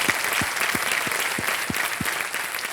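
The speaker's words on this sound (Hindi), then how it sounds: "तालियों के साथ हम आपका अभिनंदन करते हैं।" A studio audience at a television quiz show applauds to welcome a contestant, brisk continuous clapping at close range with a low rhythmic thump pulsing under it.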